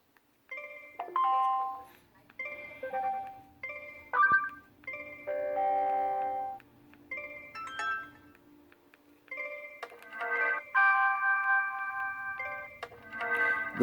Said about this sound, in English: That's the notification sounds.